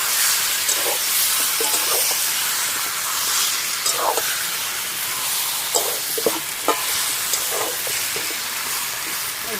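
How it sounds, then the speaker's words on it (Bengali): Desi chicken being stirred with spices in a hot pan: steady frying sizzle and hiss with repeated scraping, clanking stirring strokes throughout, close and moderately loud, no talking. "মশলার সঙ্গে ভালো করে মিশিয়ে দেবো একদম নেড়ে।"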